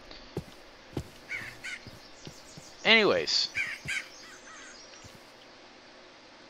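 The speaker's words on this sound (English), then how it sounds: "That fucking crow just went and harassed these poor little sea puppies." A crow in the Minecraft video game gives a loud, close series of harsh caws in the middle, set against faint ambient game sounds, with a voice speaking briefly.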